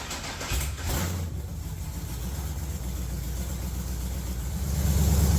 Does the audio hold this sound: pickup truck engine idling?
yes